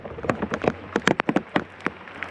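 Raindrops patter irregularly on a kayak and nearby surfaces on a lake, a close, uneven scatter of sharp ticks over a soft background hiss.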